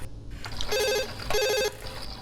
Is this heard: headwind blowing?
no